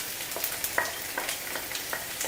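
Chopped onions fry in a hot kadai for Indian egg podimas, giving a steady moderate sizzle with scattered stirring scrapes and small pops, close by and with no talking.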